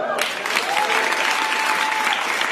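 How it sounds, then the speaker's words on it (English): A television studio audience applauds, a dense, loud burst of clapping that starts abruptly and carries on steadily, with a faint voice audible beneath it. "The audience applauding."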